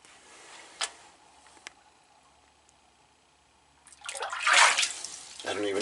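Water sloshes and splashes inside the chemical warfare hatch of the destroyer USS The Sullivans, a quiet space with a couple of sharp ticks early on, then a louder swirl of water near the end.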